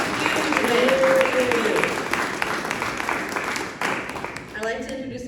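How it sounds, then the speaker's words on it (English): An audience at a community organizing talk claps in a round of applause that fades over a few seconds, with a voice talking over it. "let's give one more round of applause for Jen"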